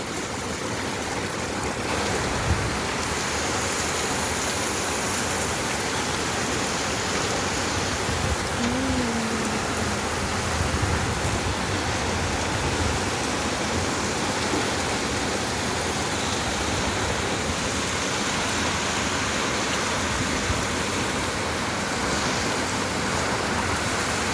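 Steady heavy evening rain pours down in an even, hissing wash, with water splashing and running close by into a house, and no voices.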